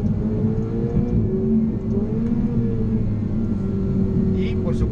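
Ferrari 488 Spider engine rumbling and humming steadily while driving through the canyons of Malibu, California, a constant mid-level drone with small shifts in pitch.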